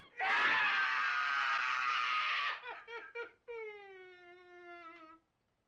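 A man lets out a long, loud, strained scream, waking from a nightmare in the 1980 film Maniac, then breaks into a few choked gasps and a wavering, moaning wail that fades out.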